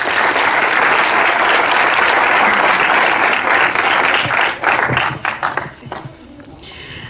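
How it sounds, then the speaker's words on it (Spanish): Audience applause at a tribute during an international film festival in Martil, dense steady clapping filling the room for about five seconds before thinning into scattered claps and fading. "les pido un aplauso para ellos."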